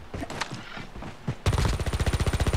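An automatic revolver fires in a battle royale video game. A few scattered shots come first, then a rapid, evenly spaced burst of loud close gunfire.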